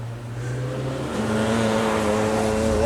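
A motorcycle with an aftermarket slip-on exhaust runs steadily at idle close by, its engine note rising slightly as it picks up revs partway through.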